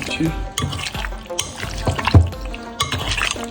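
Chicken marinade is stirred with a spoon in a home kitchen, giving wet, squelching scrapes in irregular bursts, fairly close, with background voices faintly present.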